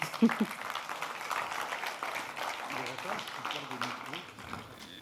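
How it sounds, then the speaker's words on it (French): An audience at a culture and economy conference gives sustained, moderately loud applause, with many hands clapping together and faint voices mixed in. "je vous demande d'applaudir Hervé Hamon."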